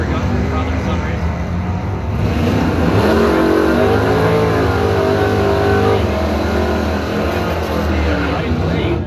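Drag race between a 1982 S10 and a 1979 Camaro: loud, continuous engine roar that swells as the cars accelerate down the strip, with an announcer's voice over the noise.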